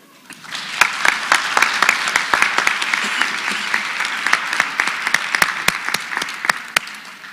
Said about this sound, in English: Everybody give President Hall another round of applause.